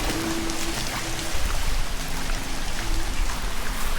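Steady heavy rain lingering after a typhoon over a flooded street, a dense continuous hiss of drops on water and hard surfaces, close and unbroken, with no talking.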